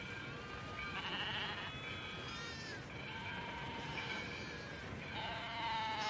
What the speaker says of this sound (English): A Judas goat.